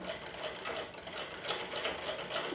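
A sewing machine stitches along the edge of fabric in quick rhythmic bursts, its needle clatter close and steady with brief pauses between runs.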